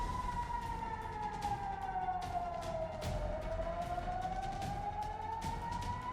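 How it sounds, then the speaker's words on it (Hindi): Emergency vehicle siren during a market fire in Tehran, Iran, wailing in one long falling then rising sweep, moderately distant over steady traffic rumble. "सायरन की आवाज।"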